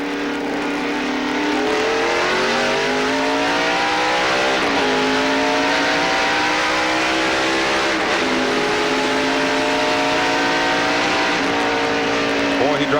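NASCAR race cars restarting at Dover in 1993, heard from Jeff Gordon's car, a loud engine revving up through gears with rising pitch and brief lifts, the roar constant throughout.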